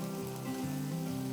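Finely chopped onion dropped into a hot pan gives a soft, steady sizzle and frying crackle, close but fairly quiet and continuous, with no voices.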